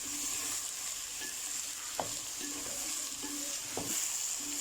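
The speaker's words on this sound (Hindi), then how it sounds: "लौकी को थोड़ा सा फ्राई कर लिया।" Bottle gourd (lauki) frying in a pan with finely chopped garlic and ginger, giving a steady low sizzle with occasional stirring clinks and scrapes, fairly quiet and without talk.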